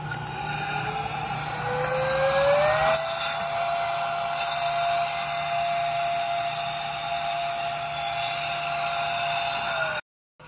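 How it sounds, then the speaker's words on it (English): A small electric air duster whirs steadily with a high whine, running continuously for about ten seconds before cutting off abruptly. "This is just an air duster from Temu. We're just going to turn it on."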